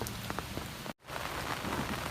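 Rain falls steadily in the dark by a lemon tree, a soft, even patter of drops hitting surfaces with a brief gap in the sound partway through.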